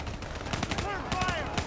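Rapid close gunfire in Call of Duty, repeated sharp automatic shots packed together with a shouting voice mixed in.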